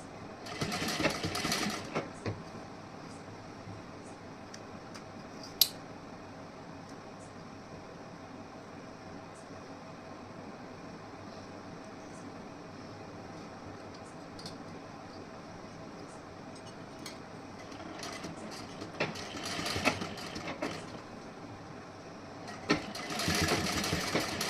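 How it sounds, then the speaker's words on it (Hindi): A sewing machine stitches a princess-cut blouse, whirring steadily and rapidly for long stretches, with short louder bursts near the start and end and a sharp click partway through; no talking. "इसी तरीके से हमें सिलाई लगानी है"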